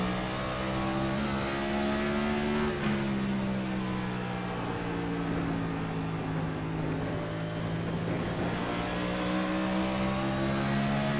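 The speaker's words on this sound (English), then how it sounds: "Let's listen to the throttle" Onboard engine note of a Winston Cup-style stock car in iRacing at Nashville Fairgrounds, a loud sustained throttle drone that dips and climbs in pitch as the driver lifts and reapplies power through the laps.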